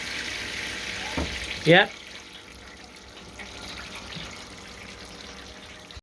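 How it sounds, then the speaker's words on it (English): Sparge water trickling steadily during all-grain brewing of an English IPA, a soft continuous watery wash with a brief louder splash early on and a short spoken word over it. "Okay, started sparging. Nice, lovely trickles."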